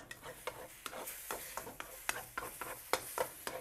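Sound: chicken fried rice sizzling and stirred in a wok

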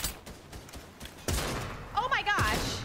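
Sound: SMG gunfire in a video game

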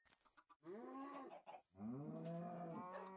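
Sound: cow mooing in Minecraft video game

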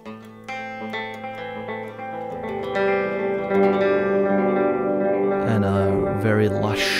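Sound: electric guitar with lush reverb effect

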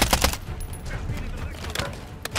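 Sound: gunfire at a house in a shooter video game

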